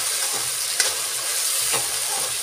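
Grated tomato and onion frying in a pan for a mixed vegetable curry, making a continuous close sizzle with a couple of brief spatula scrapes and pops.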